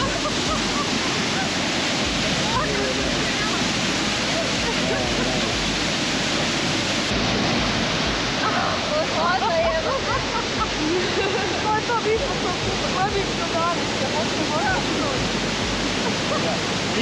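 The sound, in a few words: Ouzoud waterfalls in Morocco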